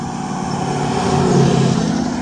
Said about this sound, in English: I want you to hear this truck go by. Now this is just tire noise.